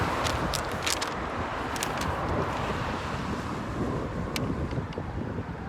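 Wind pushes hard into a microphone beside a road near Durham, Maine, a continuous thick roar with rumbling low buffeting and a few faint higher clicks, loud and unbroken with no talking.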